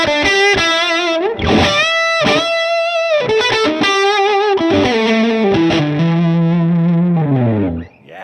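Electric guitar lead through a California Tweed amp, heavily driven with effects: fast bending and sliding single-note runs, loud and close, sustaining before stopping abruptly near the end.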